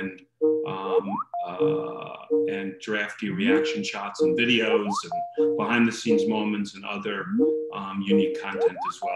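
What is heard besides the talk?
phone ringing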